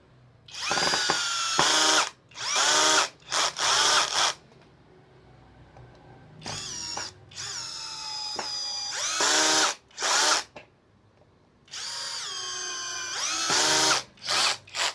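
A Moketa drill driver set to speed 2 whirs in loud, repeated bursts, starting and stopping about six times with brief silent gaps between runs.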